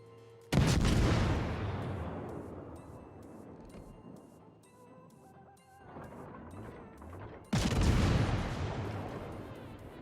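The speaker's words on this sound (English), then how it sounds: "Let's start shelling this Texas while I get some cover." Heavy naval gun salvos from the USS Omaha, a Tier V American cruiser in World of Warships, boom twice several seconds apart, each loud blast rolling out into a long fading rumble, with faint game effects between them.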